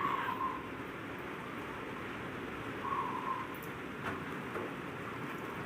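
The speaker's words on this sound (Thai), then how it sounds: "ฝนกำลังโปรยไปเบาๆ ค่ะเช้านี้" Light morning rain around a rural Thai home garden: a steady, soft hiss of drizzle throughout, with faint bird calls and no voices.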